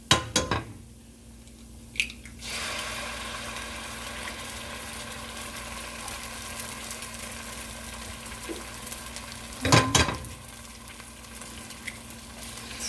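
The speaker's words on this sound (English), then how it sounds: "I'm going to add the eggs into my mixed onions and peppers and garlic." Eggs are added to onions, peppers and garlic in a hot pan, setting off a steady sizzle, with a loud clatter of utensils near the start and a sharper pan knock near the end.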